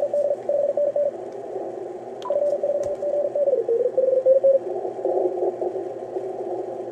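Amateur radio DX pile-up heard through a receiver during split operation: overlapping tones and keyed signals from many stations, steady and continuous over a hiss and hum background.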